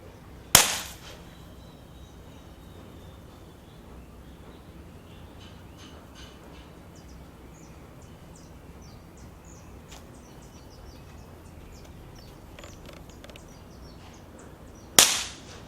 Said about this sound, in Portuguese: Essa é uma bombinha de baixa potência, ela não é muito forte, então eu vou estourar ela.